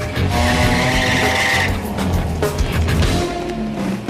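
Rally cars in a road-rally event fire up and pull away, a loud continuous engine roar with tire squeal and skidding building over a few seconds, close and dense.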